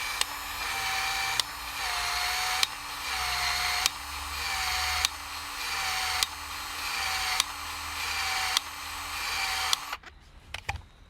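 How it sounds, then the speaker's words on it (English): PEX expansion tool working a half-inch pipe ring, a steady mechanical whir broken by about eight evenly spaced sharp clicks as the head opens and resets, close and loud, ending in faint handling noise. "grab your expansion tool. Make sure it's 1/2 inch. Just put it in here, expand it"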